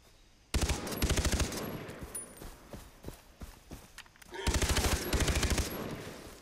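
Gunfire in the video game Far Cry 3: two loud bursts of rapid automatic fire with sharp single shots scattered between, close and dominant, with no talk.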